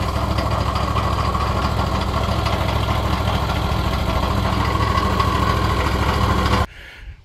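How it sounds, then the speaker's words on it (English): Engine of a Wood-Mizer EG200 twin blade edger runs loud and steady at close range for about six and a half seconds, then cuts off abruptly, leaving near silence. "All right, now the engine's off."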